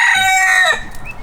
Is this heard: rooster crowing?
yes